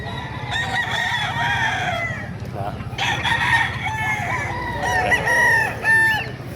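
Roosters crow repeatedly at an open-air chicken market in Bocaue, Bulacan, with several overlapping cock-a-doodle-doo calls and clucks, loud and near, over a steady crowd murmur.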